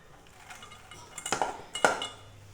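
Lemon, crisps and sauce are mixed together in a bowl, heard as a couple of clinking, clattering strikes of a utensil against the dish over a quiet background, with no talking.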